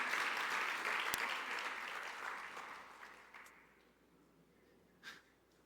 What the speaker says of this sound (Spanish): Si le vas a dar un fuerte aplauso al Señor, dáselo con amor, con ganas